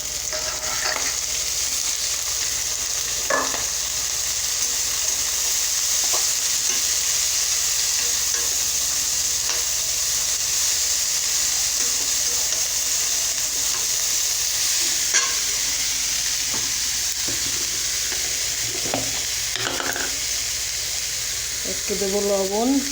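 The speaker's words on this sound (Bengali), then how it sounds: "পেঁয়াজ রসুনটাকে একটু ভেজে নেব। এর মধ্যে দিয়ে দেবো শাক।" Onion and garlic, then greens, fry and sizzle steadily in a pan, a continuous loud hiss broken by occasional stirring scrapes and clinks, with brief clatter near the end.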